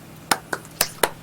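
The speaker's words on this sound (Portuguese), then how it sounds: "Palmas." Four quick, sharp hand claps sound close by in a brief burst with no talking.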